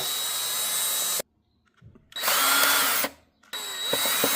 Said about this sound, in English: It looks like next I remove these 2 screws